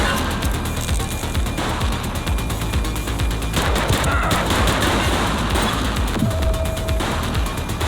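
Gunfire in The Precinct, a police action video game: dense, continuous bursts of shots and rapid fire fill the scene, loud and close, with scattered impacts and no clear talk.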